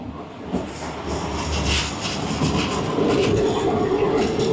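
Steady rumble and hiss inside a MÁV Intercity railway carriage in motion, a continuous loud rolling drone with brief clattering bursts and no talk.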